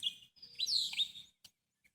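Bird chirping outdoors, a single bright twittering call with rising and falling sweeps lasting about a second, fairly close and clear, followed by a couple of brief faint chirps, no talking.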